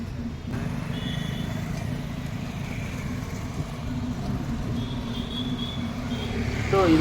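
Steady traffic rumble at the Pandit Nehru main bus stand in Vijayawada, a continuous low road-noise wash with engines idling and passing, with a rising vehicle sound near the end.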